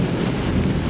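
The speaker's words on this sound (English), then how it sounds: "It's thunder." A low, broadband rumble of thunder during a rainstorm, continuous and steady across the second with no speech over it.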